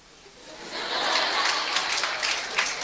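Audience applause at a Tamil talk, rising from quiet into a dense wash of clapping that holds steady at moderate loudness for a couple of seconds, with a few sharper claps near the end.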